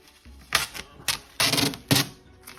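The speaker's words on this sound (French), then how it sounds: "On va enlever ensemble les bandes." Masking tape is ripped off carbon-fibre mirror covers for a 1999 Lotus Elise S1 in four sharp, close tearing bursts, each under half a second, with short pauses between and no talk.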